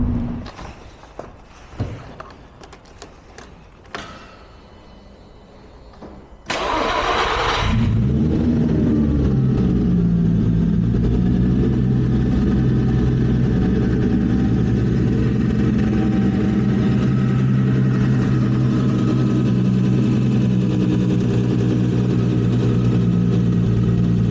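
Turbocharged VR6 engine in a VW Golf MK5 R32 with a DQ500 gearbox: a few clicks and thumps, then the engine starts and runs on light throttle with a loud, steady, close drone for the rest.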